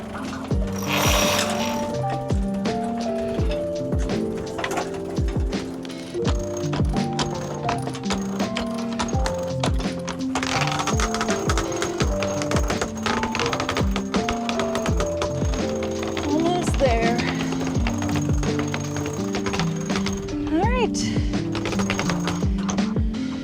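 On a sailboat the mainsail is hauled in with a winch, giving long runs of rapid ratcheting clicks and clanks of the mechanism, close and busy throughout, with no one talking.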